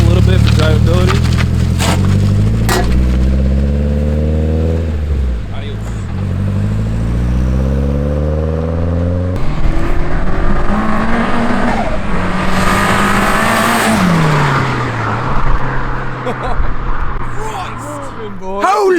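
A tuned Nissan 240SX revs hard through rising and falling sweeps, then roars past with a brief tire squeal before fading, loud and close, with excited voices nearby.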